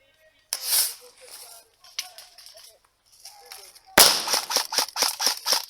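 Airsoft gunfire in an outdoor skirmish game: a few scattered sharp pops early on, then a rapid burst of loud, closely spaced shots toward the end, with faint distant shots between.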